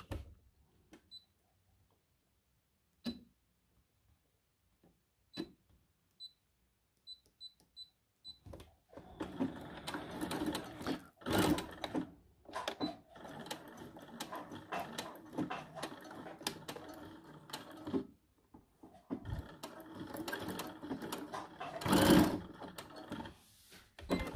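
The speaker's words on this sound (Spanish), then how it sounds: "vamos a hacer una costura recta pequeña de largo 2 y vamos a rematar aquí dos veces para que esto quede justo" Sewing machine running a short straight seam along bra lining for an underwired cup bra, with bursts of stitching and brief backtacks, close and clear, after a quiet start with scattered small clicks; no talking.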